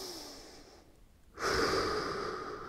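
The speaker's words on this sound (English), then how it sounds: "Pause and breathe in." A person draws in one slow, deep breath through the nose during a quadruped exercise, a steady airy rush that swells after a brief quiet gap and holds for over a second, close and alone.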